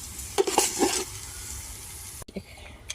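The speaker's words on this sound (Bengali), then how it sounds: "চাউলগুলো আমরা ভেজে নিচ্ছি।" Polao rice frying in a pot on a clay stove on a rooftop, a soft continuous sizzle under a few scraping stirs and clinks of a utensil near the start and end, close by with no talk.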